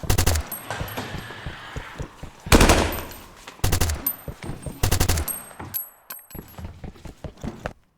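Rapid bursts of gunfire-style sound effects triggered from a keyboard in the Krotos Weaponiser sound-design plugin, several separate loud volleys with short gaps, each sample slightly different, close and punchy with no talking.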